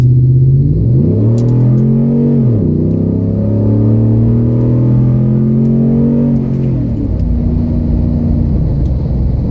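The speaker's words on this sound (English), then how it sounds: "tell you guys what the acceleration in this big truck is like" A 2014 Ford Raptor pickup's 6.2 liter V8 roars loudly as it accelerates, its deep pitch climbing through gear shifts with a steady, heavy rumble throughout.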